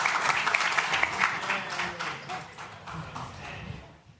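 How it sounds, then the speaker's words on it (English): Council meeting audience applauding a troop of Cub Scouts, steady dense clapping at moderate level throughout, with some voices mixed in and the clapping thinning toward the end. "Let's give them a round of applause"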